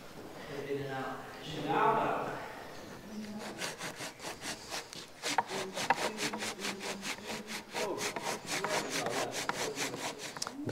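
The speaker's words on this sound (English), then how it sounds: "You just run a saw down" A hand saw cuts a kerf into a timber frame joint with quick, evenly paced back-and-forth strokes that rasp loudly through the wood. Someone talks over the opening seconds before the sawing starts.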